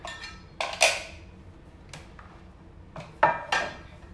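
Lemon chicken being moved into a Pampered Chef roasting pan in a home kitchen: a few sparse clanks and scrapes of utensils and pan, in short bursts separated by quiet gaps.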